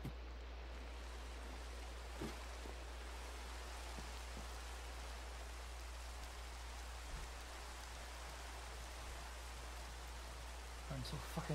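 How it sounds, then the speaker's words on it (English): Rain falling in the video game Minecraft, a steady soft hiss of rainfall running throughout, with a low constant hum beneath and a few faint clicks. "it's raining"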